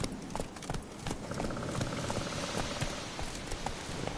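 Roach the horse galloping in The Witcher 3: a rapid, steady clip-clop of hooves, close and fairly loud, with rain-like hiss behind it and no voices.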